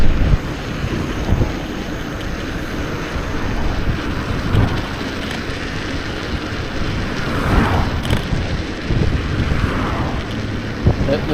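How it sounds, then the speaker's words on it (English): Strong 40 km/h headwind roaring over a cyclist's microphone during a bike ride, a constant heavy buffeting rush that fills the whole stretch with no quiet gaps. "in the 40-kilometer wind that's oncoming at me"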